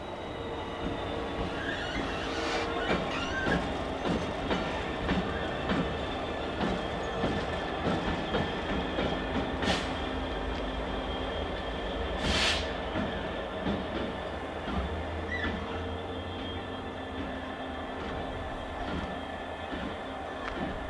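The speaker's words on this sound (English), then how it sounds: "66718 shunting in the east yard there" A Class 66 diesel locomotive, 66718, shunts in the east yard at Eastleigh, heard at a distance as a low rumble with wheel clatter, metallic clanks and occasional sharp wheel squeals.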